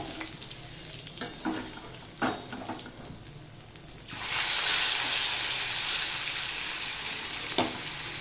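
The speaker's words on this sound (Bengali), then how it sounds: "মাছগুলো বেশি ভাজবো না হালকা করেই ভাজবো" Spiced, marinated fish pieces go into a hot wok (kadai) for a light fry for a masala fish curry; after a few soft taps, a loud, steady sizzle erupts midway and holds close up, with no talking.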